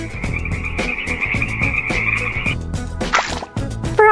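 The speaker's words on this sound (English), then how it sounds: "Frog." A frog croaks in a fast, rattling series of loud, close calls, with a brief brighter squeak near the end.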